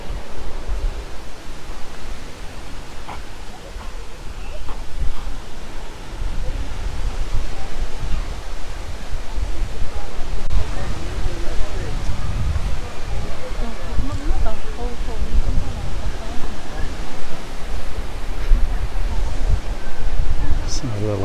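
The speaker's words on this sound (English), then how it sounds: "Quite a few waves." Waves on a wind-swept lake along the Seven Bridges Trail in Grant Park, Milwaukee County, Wisconsin, make a continuous rushing wash blended with gusty wind noise on the microphone, steady and fairly loud throughout.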